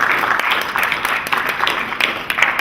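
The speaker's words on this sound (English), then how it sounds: "Give yourselves a nice round of applause" At a community gathering before a candlelight vigil, an audience applauds in a steady, dense patter of many hands, fairly loud and close throughout the short stretch, with no voices standing out.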